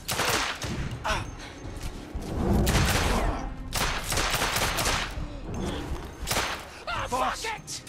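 Shotgun fire in the video game The Order 1886 comes as dense, loud bursts of overlapping blasts and sharp cracks, with voices mixed into the battle noise.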